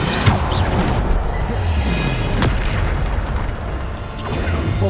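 Bombarda spell explosions in the Hogwarts Legacy video game, loud booming blasts over a dense rumbling game soundscape, with sharp impacts around the middle and near the end.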